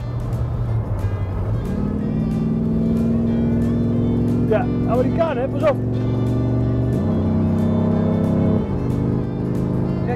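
A 1961 Chrysler 300G with a 375 hp engine driving fast, its steady engine drone shifting pitch as it accelerates, loud and close under someone talking.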